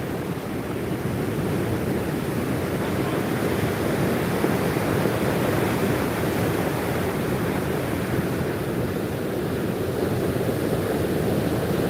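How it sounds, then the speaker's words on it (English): Loud, continuous roar of ocean surf breaking on a shore, dense and unbroken with no voices. "now you can hear the ocean"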